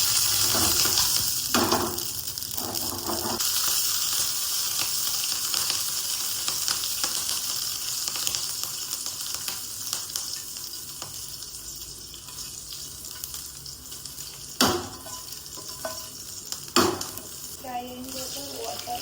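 Mustard seeds and chillies sizzle steadily in hot oil in a home kitchen while dhokla tempering is made, the frying crackle loud and continuous, with a few sharp clinks from a utensil near the end.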